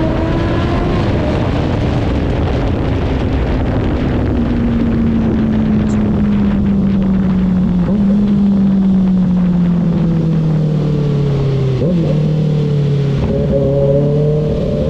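A loud Kawasaki Ninja ZX-6R with an Austin Racing exhaust winds down in pitch with a few distinct downshifts, its drone buffeted by strong wind noise.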